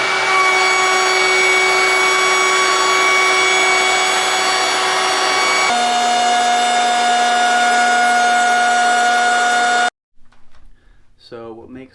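A 10 horsepower, 12,000 RPM router sled spindle cuts across a wood slab, a loud steady high-pitched whine with a pitch drop partway through, then stopping abruptly before a short burst of talk.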